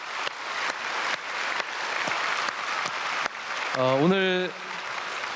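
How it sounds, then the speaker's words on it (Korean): Church congregation applauding during a Sunday worship service, sustained full-room clapping with a few sharper claps standing out, while someone speaks briefly over it near the end. "우리 다시 한번 박수로"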